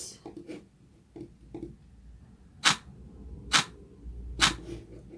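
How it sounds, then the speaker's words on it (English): Clap drum sample from an electronic track, with three sharp, bright claps spaced about a second apart over faint lower clicks and soft background noise, heard alone and without talk. "So the first one sounds like this."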